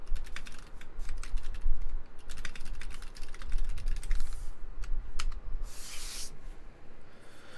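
Mechanical keyboard typing with bursts of fast clacking keystrokes, steady and close, with a brief louder rush of noise near the end and no voices.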